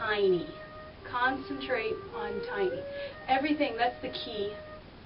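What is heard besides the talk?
No distinct noise like a dog, phone or traffic.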